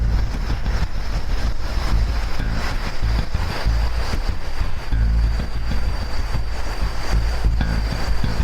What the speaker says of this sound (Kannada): ಇಲ್ಲೆಲ್ಲೋ ನೀರು ಹರಿತಾ ಇರೋ ಶಬ್ದ ಕೇಳ್ತಿದೆ.